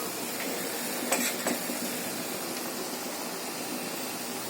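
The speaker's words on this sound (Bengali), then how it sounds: "একটু ভাজা ভাজা হলেই আমি নামিয়ে নিব" Boiled radish frying with dried fish in a pan gives a steady soft sizzle, with a couple of brief stirring scrapes early on and no voices.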